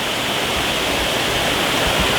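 A river flows below a village in Rucăr, Romania, making a steady, dense rushing roar that stays loud and even throughout, with no voices.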